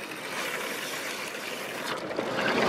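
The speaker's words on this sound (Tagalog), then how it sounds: "Sigurado natin na may tubig na lumalabas." Water gushes steadily from the pump of a coin-operated carwash, a continuous broadband hiss and splash held at an even, fairly loud level with no talking.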